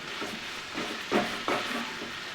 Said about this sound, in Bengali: ভালোভাবে আমি কিন্তু নাড়ব ততক্ষণ পর্যন্ত কষবো যতক্ষণ পর্যন্ত আদা রসুনের কাঁচা গন্ধটা